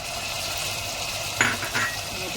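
Onion and tomatoes for chicken rassa sauté in a pan with a steady sizzle, and two brief metallic clinks of a utensil land near the middle.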